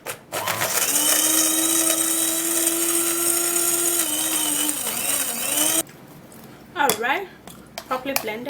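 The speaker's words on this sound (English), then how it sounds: "I'm going to be turning that into the blender" A loud electric blender whirs steadily for several seconds, its motor pitch shifting slightly, then cuts off, followed by brief clattering and handling sounds.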